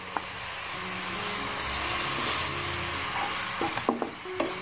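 Ginger and garlic paste frying in hot oil in a pan for potato curry, a steady close sizzle with occasional stirring scrapes and light clinks, no talking.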